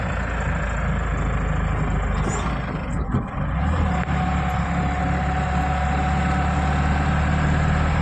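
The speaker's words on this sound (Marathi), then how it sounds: "गाडी चालली अशी" A vehicle driving along an empty road through a ghat section, a steady engine drone with low rumble and road noise, close and constant, with a brief dip in the middle.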